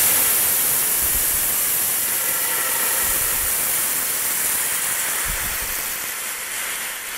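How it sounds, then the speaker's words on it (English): Vodka hitting a very hot pan to deglaze it, a loud continuous broadband hiss of steam and sizzle that holds steady for several seconds and fades slightly toward the end. "I'm going to take the vodka and deglaze the pan"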